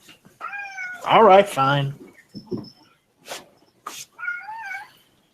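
Domestic cat meowing repeatedly nearby, several drawn-out loud meows followed by a softer one, with someone speaking briefly between them.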